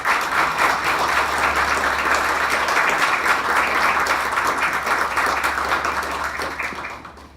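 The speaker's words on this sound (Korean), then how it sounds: "마찬가지로 박수로 주셨으면 감사하겠습니다." An audience claps steadily at a university retirement ceremony, a dense sustained round of applause in a hall that tapers off at the end, with a low hum underneath.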